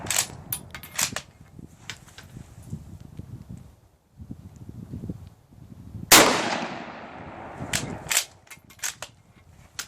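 A Spanish 1916 Mauser rifle converted to 7.62x51 fires a single loud, sharp shot that echoes and decays outdoors in the cold, surrounded by bolt handling and clicking.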